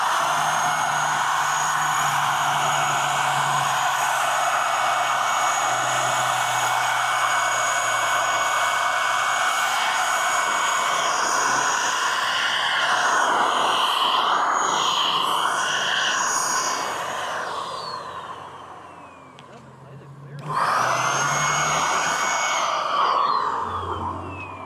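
A cheap $40 Amazon airless sprayer lays clear coat onto a car fender, giving a loud, steady hiss with a pump whine that runs about seventeen seconds, drops off briefly, then starts up again.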